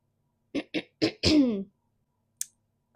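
Several short, dry coughs in a quick burst, then a longer hoarse cough, close to the mic in a quiet room, and a faint click afterward.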